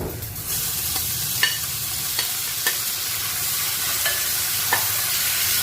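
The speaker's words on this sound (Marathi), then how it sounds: "आता आपण याच्यामध्ये टोमॅटो ऍड करूया" Tomatoes frying with soya chunks in a hot pan for a soya chunk gravy, giving a steady broad sizzle with a few sharp scraping stirs spaced through it.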